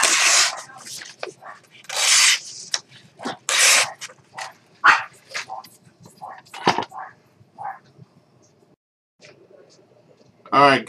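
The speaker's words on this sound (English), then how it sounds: "Dogs are barking." Several dogs bark indoors in loud, close bursts, some overlapping, with a brief whimper and quieter pauses between outbursts near the end.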